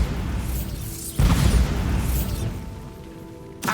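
The Bombarda spell goes off in Hogwarts Legacy as a sudden booming blast. A rumbling roar follows and fades over a few seconds, with a second sharp hit at the end.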